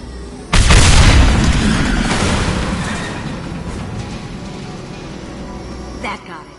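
A loud explosion blows up enemy tanks in the video game Mass Effect, a sudden heavy boom with a long rumbling decay under ongoing battle noise.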